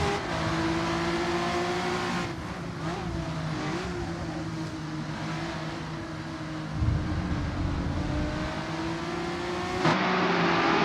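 Lotus 2 Eleven race cars lapping Spa-Francorchamps in the racing game Assetto Corsa, a steady, loud engine drone with sustained tonal whine holding throughout, brief louder swells near the end, no voices.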